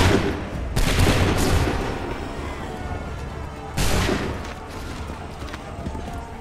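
Two sharp, loud musket volleys crash out about three seconds apart in Assassin's Creed III Remastered, each leaving a rumbling decay behind it.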